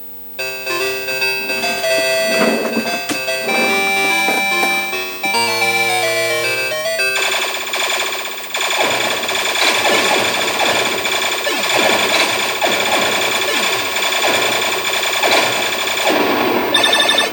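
Electronic sounds from a 1982 Konami/Centuri Time Pilot arcade board after coin-up and start, loud and continuous: a bleepy tonal jingle first, then a dense, noisy wash of beeps and blasts.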